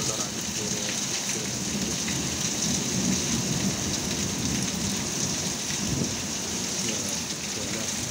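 A strong thunderstorm in Navarra, Spain pours down heavy rain in a dense, constant hiss, with low thunder rumbling beneath it throughout and no voices.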